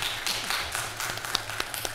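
Church congregation at a Sunday worship service giving a short burst of clapping, quick overlapping hand claps close by that thin out within a couple of seconds.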